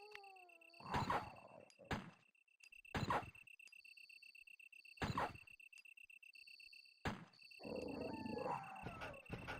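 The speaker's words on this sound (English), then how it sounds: "It was a Cerberus dog." A Cerberus zombie dog in Resident Evil on Sega Saturn lets out several separate growling, snarling bursts spaced a second or two apart, loud and close, over a quiet game backdrop with a faint steady tone.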